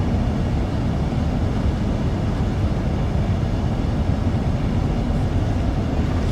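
A Class 395 high-speed train on the Southeastern High Speed route in Train Sim World 2 runs with a steady, loud, broadband rumble and roar throughout, with no breaks.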